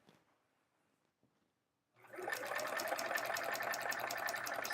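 A sewing machine quilts an hourglass quilt block with metallic thread, starting after a quiet pause and then running in a steady, close, rapid mechanical whir.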